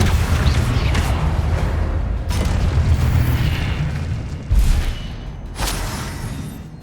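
Combat spells firing in the Hogwarts Legacy video game: loud, dense booms and magical bursts in a steady barrage, with sharper impacts near the middle and end and no speech.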